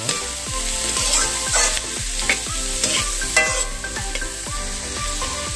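Carrots stirred and fried in a pan for vegetable fried rice: a bright continuous sizzle with regular stirring strokes, heard under steady background music.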